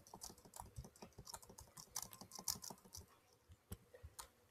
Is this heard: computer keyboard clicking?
yes